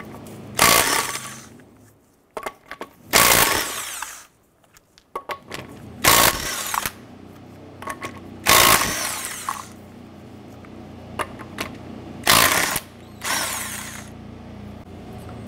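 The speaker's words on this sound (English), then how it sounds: "Let's remove the lug nuts." Impact wrench spinning off 19 mm lug nuts from a 2006-2013 Chevrolet Impala wheel, six loud, close bursts of about a second each with short quiet gaps and a few faint clicks between them.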